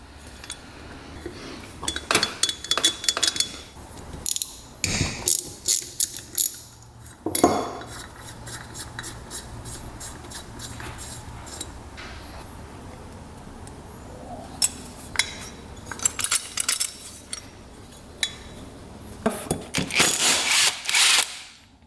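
Metal parts clink and rattle as power valves are taken out of a dirt bike cylinder, with bursts of sharp clanks, tool scrapes and jangling separated by quieter stretches.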